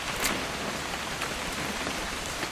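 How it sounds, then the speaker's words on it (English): Rain in the video game What Remains of Edith Finch makes a continuous dense hiss of drops on surfaces, moderately loud and steady, with no voices over it. "It's gonna rain the whole weekend, isn't it?"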